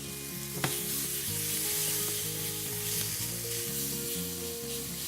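Sausage and cabbage fry in a pan with a shot of hot sauce, giving a steady close sizzle with a short sharp hiss early on and a low rhythmic hum underneath.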